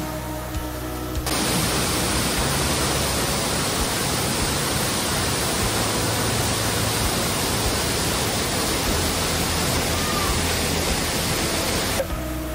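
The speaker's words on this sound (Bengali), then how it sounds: "আমি কিন্তু পৌঁছে গেছি ওয়াটারফলটার কাছাকাছি, আমার সামনেই রয়েছে। এই দেখুন কি আওয়াজ দেখুন।" A waterfall swollen after the monsoon in Keonjhar, Odisha, roaring as a loud, dense, unbroken wash of rushing water that begins abruptly and holds steady before cutting off near the end.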